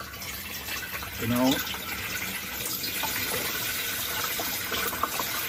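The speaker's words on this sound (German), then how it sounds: "kippt jetzt ein bisschen Frischwasser in den Abwassertank rein" Fresh water is poured into the grey water tank of a Ford Nugget camper van, making a steady, gushing splash that runs throughout the clip while someone speaks briefly.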